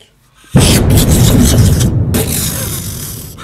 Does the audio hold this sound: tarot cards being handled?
no